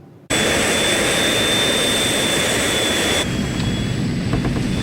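Jet engines of a damaged United Airlines Flight 811 airliner roar loudly and steadily, a sudden onset into a constant high-pitched whine over a broad, heavy rumble, with a slight shift in tone near the end.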